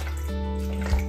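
Water poured into a bowl for sourdough bread dough, a soft, steady trickle close by over a low, constant background hum.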